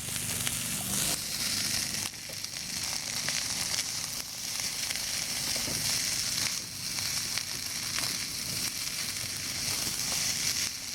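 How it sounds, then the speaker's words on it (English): Chinese pork sausage fried rice sizzling in a hot pan, a dense, steady crackle that runs unbroken and fairly loud throughout, with no voices. "Fry them up a little bit longer until it's brown up a little bit more."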